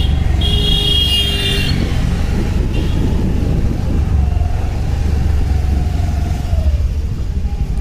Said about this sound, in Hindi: धुक धुक आ रही है गाड़ी, देखो यार।